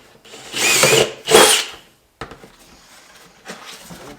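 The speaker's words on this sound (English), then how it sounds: "So we're just going to use a drill bit here." A power drill bores into a duck decoy in two loud whirring bursts, followed by quieter clicks and handling noises.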